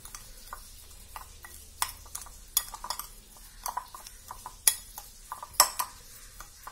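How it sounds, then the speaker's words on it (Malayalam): A spoon stirring sugar into Kerala ada filling in a bowl, with soft scraping and a run of scattered light clinks and taps, some sharper knocks standing out, close and fairly quiet with no talking. "നമുക്ക് നന്നാക്കി ഇളക്കിയെടുക്കാം."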